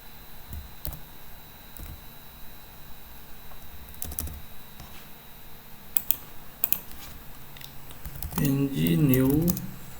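Steady clicking of a computer keyboard as someone types in a Node.js command prompt, fairly close, with a person talking throughout.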